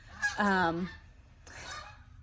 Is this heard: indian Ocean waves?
no